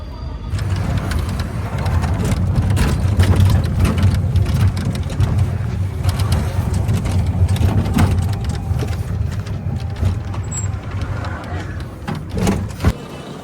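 An auto-rickshaw's engine drones steadily throughout a ride toward a train station in Kochi, Kerala, mixed with road and wind noise and scattered rattles.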